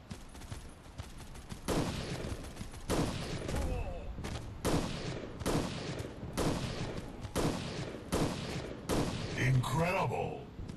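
Repeated bursts of automatic gunfire in the mobile shooter Guns of Boom, loud and close, in rapid volleys separated by short pauses, with game effects and a voice talking over the shots.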